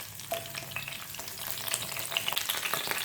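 Close, steady sizzling of curry leaves frying in hot oil in a pan, with a constant crackling hiss and a few light stirring scrapes.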